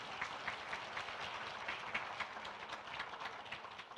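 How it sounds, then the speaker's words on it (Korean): Closing applause from a lecture audience at a humanities talk by an author, steady clapping heard at a modest distance, sustained evenly throughout with no voices over it. "다시 한번 큰 박수 부탁드리겠습니다."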